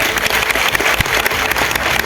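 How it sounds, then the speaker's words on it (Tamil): An audience applauds at a Tamil public speech event, a loud, dense burst of clapping from a crowd that continues steadily for about two seconds without any voice over it. "பெரிய கைத்தட்டல் கொடுங்க"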